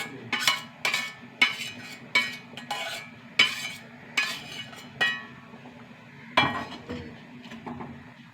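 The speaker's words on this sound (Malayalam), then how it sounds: "നന്നായി കലക്കുക." A spoon stirs a thick curry mixture in a pot, each stroke giving a sharp metallic clink in a steady, regular rhythm, close and clear with no talking.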